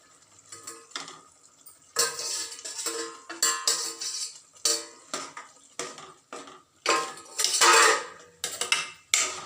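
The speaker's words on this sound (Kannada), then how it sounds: "ಈಗ ಇದಕ್ಕೆ ಬೆಂದಿರೋ ಬಟಾಣಿ ಸೇರಿಸ್ತಾ ಇದ್ದೀನಿ" Boiled green peas going into a masala pan, a run of clinks, scrapes and stirring knocks of a spoon against the metal pan, irregular and close, with short pauses, no talk.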